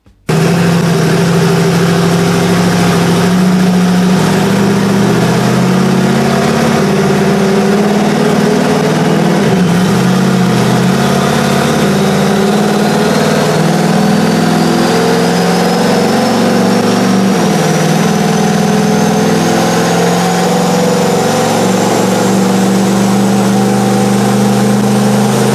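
Turbocharged LS engine in a Chevy Nova running loud and close under load during a pull through a new torque converter, a deep steady drone with shifting pitch and a rising turbo whistle building over the clip.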